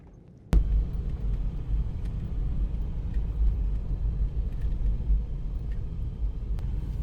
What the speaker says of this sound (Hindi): अब देखें यहाँ पे 4x4 जीप है, लेकिन फिर भी गाड़ी को बड़े आराम से एहतियात से चलाया जा रहा है